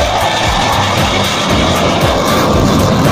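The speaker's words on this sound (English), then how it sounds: "Fighter jet." Fighter jet roaring by, a loud continuous broadband engine rush with rising intensity and no voices over it.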